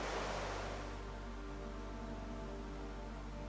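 Steady, soft wash of ocean waves on a seashore, a continuous even rushing surf with no distinct breaks, heard alone at low level.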